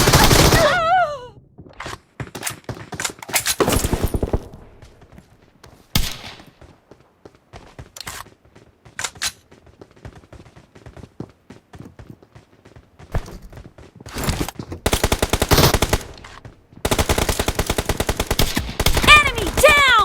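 Shotguns and other guns fire in a third-person shooter team match, with loud, sharp blasts and rapid bursts that arrive in irregular clusters between short quiet gaps.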